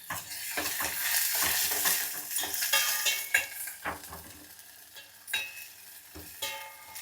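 Onion, green chilli and okra being stir-fried in a pan give a steady broadband sizzle, broken by repeated scrapes and clinks of a spatula against the metal, close and fairly loud with no talking.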